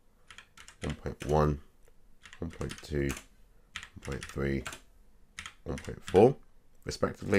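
Calculator keys tapped in short bursts of clicks while a person reads out a series of decimal values, each group of presses falling between the spoken numbers.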